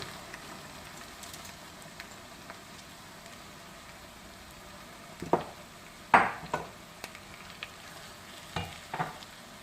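Washed rice hits a pan of sautéed tomato paste, giving a soft, steady sizzle with a few sharper crackles and stirring scrapes partway through, with no talking.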